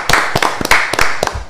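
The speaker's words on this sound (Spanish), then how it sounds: "Un aplauso para Kedual." Scattered hand claps from a small studio audience welcoming a guest on a Spanish-language chess and sports talk show, about five sharp, distinct claps at an uneven pace with no talk over them.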